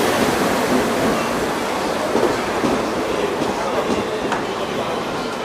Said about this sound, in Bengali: পুরো আমাদের ট্রেন চলে আসলো